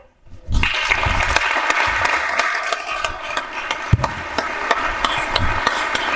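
Audience at a youth mini-basketball forum session breaks into applause, a sudden burst of clapping that starts loud and stays dense with scattered sharper claps and thuds mixed in, continuing to the end.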